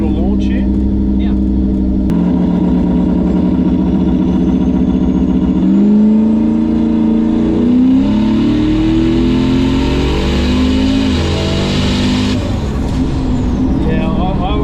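A car engine revs hard and climbs steadily in pitch as it accelerates, loud and close, with a sharp hiss early on.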